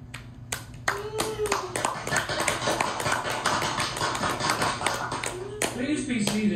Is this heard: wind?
no